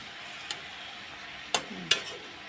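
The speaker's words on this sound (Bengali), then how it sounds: "শাকটাও আমি নাড়া দিয়ে দেবো" Leafy greens cooking in a pan under faint sizzling, with three short clinks and scrapes of a utensil stirring them, close and light.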